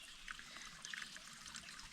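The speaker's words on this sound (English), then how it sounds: "Fill up our water bladders that I'm squeezing right now and bring it all to camp." Water trickles and drips steadily and faintly as a hand-squeezed backpacking filter empties into water bladders outdoors on a wilderness trail, with no speech.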